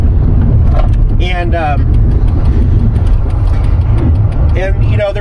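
A car drives slowly along a snowy road with a steady low cabin rumble, and a person talks over it throughout.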